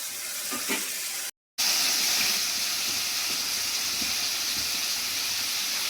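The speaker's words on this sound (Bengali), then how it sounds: "ওখানে চিংড়ি মাছগুলো ভাজা হচ্ছে" Prawns fry in a pan with a steady, close hiss of hot oil. The sizzle broke off briefly near the start and then carried on evenly, with no talking.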